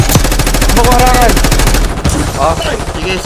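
Rapid automatic gunfire in a shooter video game, a dense burst of shots filling the first two seconds, then scattered quieter game sounds with voices talking over them.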